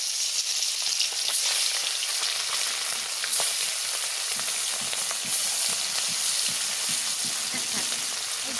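Tilapia fish pieces fry in hot oil, giving a loud, dense, continuous sizzle with spitting crackles, close up and steady, with no voices.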